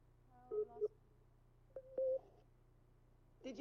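Two short electronic telephone keypad tones, each about a third of a second and about a second apart, then a brief fainter blip, over a low steady hum in a quiet room, with no talking.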